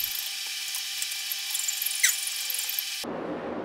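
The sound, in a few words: cutoff disc cutting 1045 steel round stock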